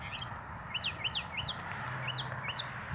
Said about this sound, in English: I feel like the birds are trying to warn me.